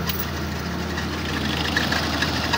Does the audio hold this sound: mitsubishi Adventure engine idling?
yes